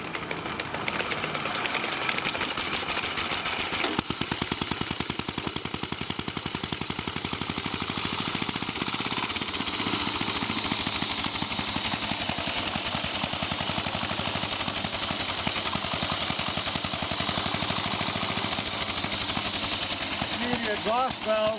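Antique motorcycle engine spun over by its bicycle pedals with the exhaust valve open, giving a steady, fast mechanical clatter with a rough rhythmic chuffing that runs unbroken and fairly close.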